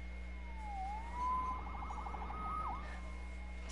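Police siren wailing at a distance, a faint rising and falling sweep that warbles briefly over a low steady hum.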